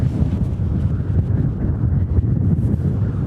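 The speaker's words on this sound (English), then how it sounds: "What are some of the wind gusts that you have been clocking in, Mark?" Strong hurricane wind from Fiona batters the microphone in loud, continuous low rumbling buffets with gusty surges throughout.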